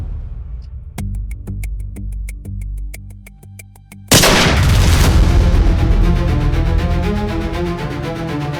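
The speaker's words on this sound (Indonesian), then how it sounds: "Itu kayak suara tembakan ya?" Gunshots in a TV drama: a rapid string of sharp reports, then a big booming blast that rings out loud and decays slowly, with no speech over it.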